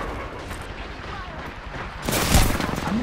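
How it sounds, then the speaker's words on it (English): A grenade explodes in Apex Legends amid gunfire-like game noise, a loud broadband blast bursting in the final second over a steady background of combat sound and voice chat. "This motherfucker threw a grenade at me."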